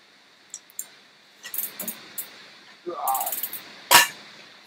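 Bicycle pedals are worked loose with a wrench, giving a few scattered metallic clicks and ratcheting taps, then a sharp clank near the end, all fairly close and alone.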